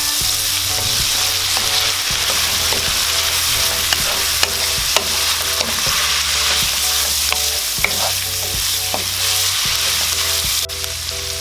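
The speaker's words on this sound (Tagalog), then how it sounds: "halu-haluin lang natin" Beef offal stew stirred in a pot, with a utensil scraping and knocking in a steady, repeated rhythm over a constant close sizzle and simmer; no voices.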